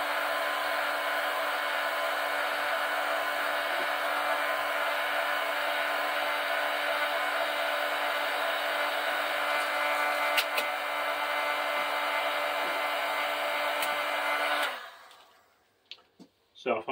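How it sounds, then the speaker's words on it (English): A hair dryer or heat gun blows steadily with a constant drone on a stripped Raleigh Chopper bike frame mounted on a stand, softening the glue under a frame decal; a few faint clicks occur before it cuts off near the end. "applying a bit of heat to the decal softens the glue and the actual decal itself"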